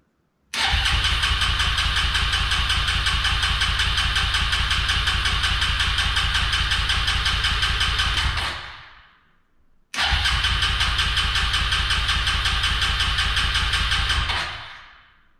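A Suzuki LTZ-250 ATV in need of carburetor work starts up close by and runs at a loud steady idle for about eight seconds, dies, then fires again and idles before cutting out, with no talking.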